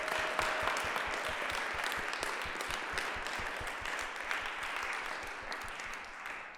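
An audience gives a round of applause for the finalists at a music competition, with steady, dense clapping at a moderate distance that slowly fades.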